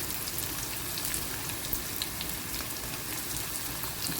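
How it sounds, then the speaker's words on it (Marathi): Onion with chili and turmeric frying in a pan gives a steady, soft crackling sizzle, even and continuous with faint pops scattered throughout and no talking. "सगळं एक जीव करून मी फ्राय करून घेणार"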